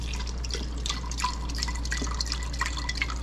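Beef broth pours into an Instant Pot with a steady, close liquid splash and trickle over a low background hum, for just a few seconds.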